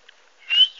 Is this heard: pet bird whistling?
yes